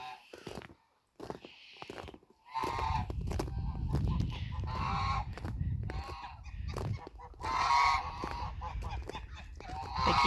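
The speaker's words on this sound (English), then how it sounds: "The geese are just spreading themselves everywhere." Farm geese honking close by on a sunny walk, repeated nasal honks and squawks overlapping in bursts over a low rumbling background, a few quiet gaps early on before the flock grows noisier.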